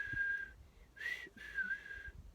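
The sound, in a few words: whistled imitation of a two-note bird call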